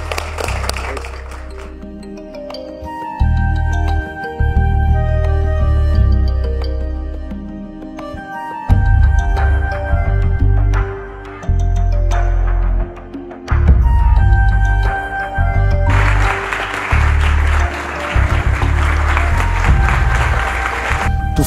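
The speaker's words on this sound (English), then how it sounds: "at least we can applaud you and thank you for coming with us here today" Applause rises from an audience at a meeting with the Chicago mayor during the Ghanaian president's visit, mixed with music and steady crowd noise through the long stretch and swelling to broad clapping near the end.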